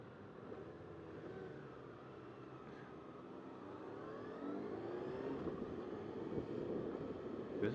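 A 2020 Kawasaki ZX-6R KRT Edition sport motorcycle accelerating on the road, its engine note rising through the gears under steady wind rush, growing louder toward the end, with no talking.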